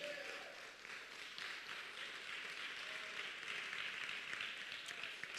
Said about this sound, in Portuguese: Então aplauda o Senhor Jesus aí